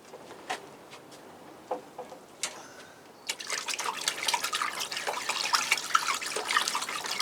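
Orchid fertilizer stirred into a container of water, a few light taps and drips at first, then a continuous close swishing and trickling of the stirred water, fairly faint.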